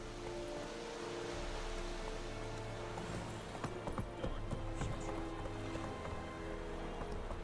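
Roach the horse galloping in The Witcher Wild Hunt, a steady run of hoofbeats under constant rain and game music, with no talking.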